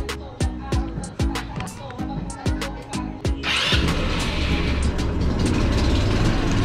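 Several sharp, rhythmic cranking pulses, then a hard-starting Easyride 150N motorcycle engine, left unused, catches and runs on with a steady, noisy rumble close by.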